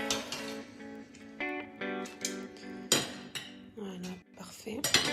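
Rabbit pieces going back into a pan of mustard sauce bring clinks and clatters of metal utensils against cookware, in short, irregular bursts close by.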